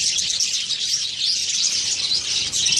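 A female budgie chirps and twitters in a cage with one male and another female, a continuous close, bright chatter of rapid high tweets with no talking.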